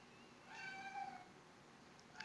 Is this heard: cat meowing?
yes